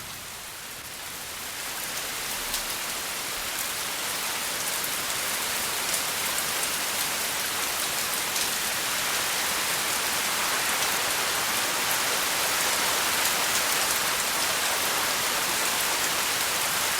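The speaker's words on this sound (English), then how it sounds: "In mid-October, rainy season begins." Steady heavy rain at the onset of the rainy season by Lake Tanganyika, a dense, even hiss of drops that swells in over the first couple of seconds and holds constant, with no voices.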